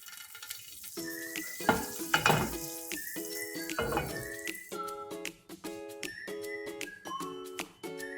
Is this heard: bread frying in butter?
yes